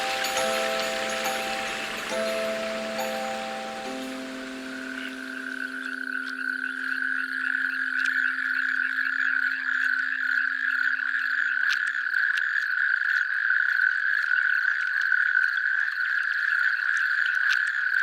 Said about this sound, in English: The natterjack toads come out from their hiding places,